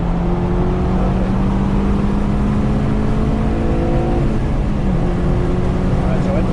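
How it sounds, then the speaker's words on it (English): A car on the Carolina Motorsports Park track during a high-performance driving session, its engine droning loud and continuous from inside the cabin as it runs hard, with the engine note shifting partway through. "Start turning it back in and go to full throttle."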